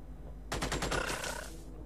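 A single short burst of rapid machine gun fire in the game Xenonauts, loud and close, with quick evenly spaced shots lasting about a second over a low background hum.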